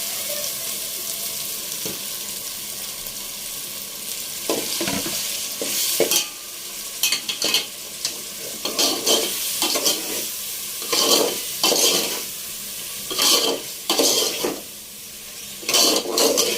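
Chicken frying in a pan for biryani, a continuous sizzle broken by repeated scraping stirring strokes that come in loud bursts, with no one talking.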